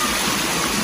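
Water pours steadily into a stone hot tub beside a stream, a dense, constant rushing splash heard close and fairly loud.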